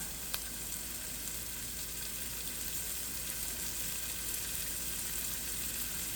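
Louisiana-style jambalaya ingredients fry in a pot with a steady, even sizzle that continues without a break, heard up close and with no voices.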